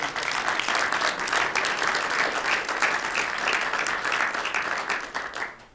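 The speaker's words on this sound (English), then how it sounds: "So can we give the group a round of applause?" An audience claps in a dense, sustained round of applause for a group at a Tucson event, loud and even throughout before tapering off at the end.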